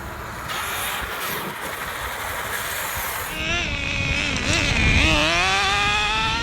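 Traxxas X-Maxx RC truck making a high-RPM pass: a buzzing motor whine that climbs and wavers in pitch as the truck speeds past, loud and close, over rough background rumble.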